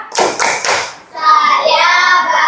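A class of pupils doing a rhythmic happy clap together in an Indonesian classroom lesson, three loud close claps in quick succession followed by voices chanting together.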